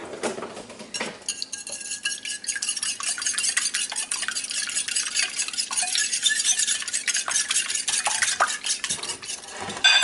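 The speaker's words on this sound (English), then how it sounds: "Let's whisk it together." Egg mixture seasoned with pepper and salt being whisked in a bowl, a steady run of rapid metallic clinks and scraping strokes that continues close and fairly loud throughout, with no talking.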